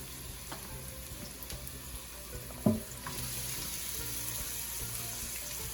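Onions, garlic and peppers sauté in a pan for a Jamaican brown stew gravy, a soft steady sizzle with one sharp clatter midway, followed by slightly louder frying.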